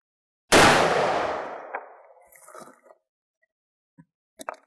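One loud, close gunshot from a .44 Remington Magnum revolver with a 5-inch barrel, fired into a gel block. A long, decaying boom follows, then faint clinks and small handling sounds.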